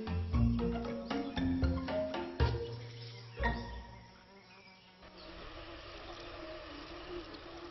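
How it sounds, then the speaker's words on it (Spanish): Swarming insects buzz steadily in a jungle, a dense, continuous drone that stays at moderate level, with tonal, music-like sounds layered over the first half. "Los enjambres de insectos son un problema para muchos habitantes de la jungla"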